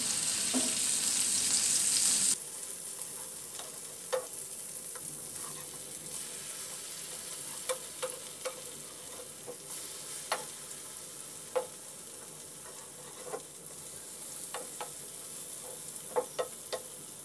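Stuffed eggplant omelette frying in a pan, a steady low sizzle with scattered clicks and scrapes of a spatula as the pieces are turned over one by one, after a brief louder hiss at the start.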